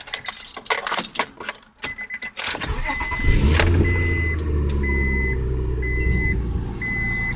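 A car is started after a repair: keys jangle first, then the starter cranks and the engine catches into a loud, steady, fairly high idle, with a warning chime beeping at regular intervals.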